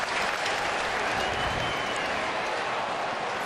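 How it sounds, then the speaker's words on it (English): Large football crowd at an AFL match between Geelong and Sydney, a dense, loud, continuous wash of applause and cheering that fills the whole stretch without a break. "Crowd are cheering Gary Ablett as he comes from the field."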